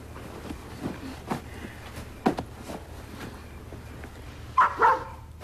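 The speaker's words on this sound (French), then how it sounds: "Qu'est-ce que c'est que ça? C'est un chien" A dog barks a few times, close by and fairly loud, with the sharpest burst near the end; a faint room hum sits underneath and no one speaks.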